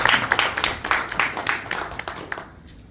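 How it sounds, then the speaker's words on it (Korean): A crowd applauding, a dense patter of many hands clapping that holds steady, then fades away near the end. "큰 박수 부탁드립니다."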